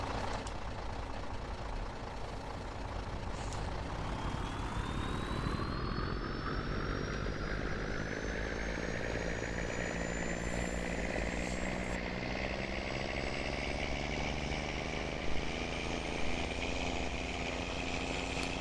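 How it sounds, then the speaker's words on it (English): In the video game Farming Simulator 19, a logging truck's Jake brake roars as a loud, continuous engine rumble, with a whine that climbs steadily in pitch. "I just don't like the Jake brake. Too loud."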